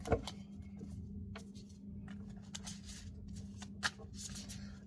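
Tarot cards are shuffled close by, making soft riffling and flicking bursts with a few sharper snaps as cards fly out, all fairly quiet against a low steady hum.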